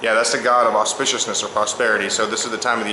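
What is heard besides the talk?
No distinct noise like a dog, phone or traffic.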